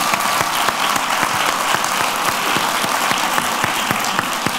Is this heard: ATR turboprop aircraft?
no